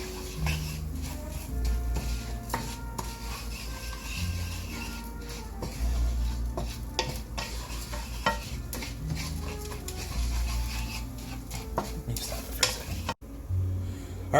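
Burrito filling seasoned with ground pepper is mixed in a pan, with repeated scraping and clinking utensil strokes over a low sizzle and a low background hum, continuing steadily for several seconds before a brief break.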